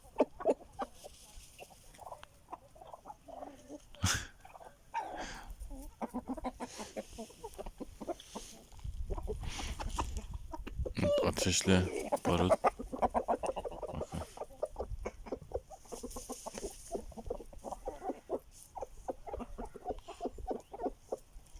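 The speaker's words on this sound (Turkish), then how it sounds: "Ateşle barut tavukları çağırıyor." Aseel rooster calls to the hens while chickens cluck around the coop, busy overlapping bird sounds with people talking briefly over them.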